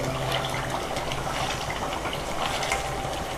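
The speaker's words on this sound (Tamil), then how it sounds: "நல்லா கொதிக்குது பாருங்கள்" Herbal hair oil with water in it boils in a pan, giving a steady, close bubbling and sizzling hiss that stays even throughout without talk.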